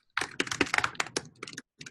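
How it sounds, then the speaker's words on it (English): Typing on a computer keyboard during a video call, a quick, close run of clattering keystrokes in an uneven rhythm with a brief pause and a final short burst, no voices over it. "They're typing?"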